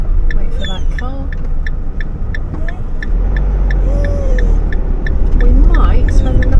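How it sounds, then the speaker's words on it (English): A car drives past on a bumpy road in Northern Ireland, its engine rumbling loud and close with a steady low roar that swells toward the end, while people talk over it. "Wait for that car."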